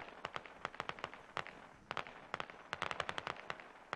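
Gunfire in the video game Squad as a squad opens up on an overpass: rapid, sharp cracks in irregular bursts, some clustered into quick automatic strings, fairly distant with no talking.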